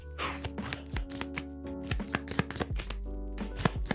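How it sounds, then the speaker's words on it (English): Board game cards for a factory-building tabletop game shuffled by hand at close range, a run of quick papery riffles and taps over a low steady hum, with one person briefly speaking. "Shuffle these up."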